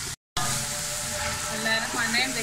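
Chopped onions fry steadily in a pan for a beef trotters curry, giving a close, continuous sizzle that cuts out briefly near the start and then resumes.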